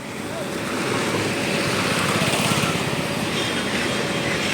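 Steady rushing chemical-laden water flows continuously through a village drain, a loud broad wash with no pauses, like a strong current pouring through a channel.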